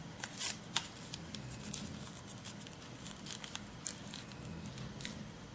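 Paper flaps of an origami bunny being folded and pressed down, soft crisp rustles and crinkles in quiet irregular bursts, close and faint.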